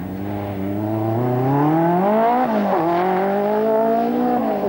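A four-wheel-drive rally car races flat out over mixed gravel and tarmac roads at Chatsworth House in the 1984 RAC Rally, its loud engine note rising and falling steadily throughout with no voices.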